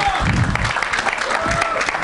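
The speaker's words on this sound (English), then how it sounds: "So you have to clap for me also" Audience applause at a film event, a dense patter of clapping hands under a speaking voice, steady and moderately loud throughout.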